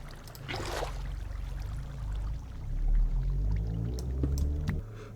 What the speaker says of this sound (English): Let's go ahead and put some water in.